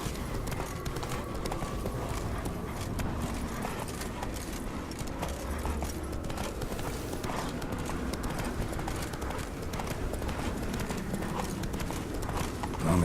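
Hooves of the horse Roach galloping in The Witcher 3, a continuous fast clip-clop rhythm carried under a dense, steady bed of game ambience throughout.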